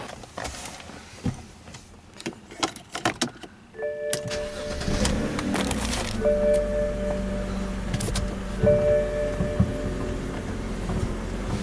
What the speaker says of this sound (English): now we're just going to start the car, turn the wheel all the way to the left, all the way to the right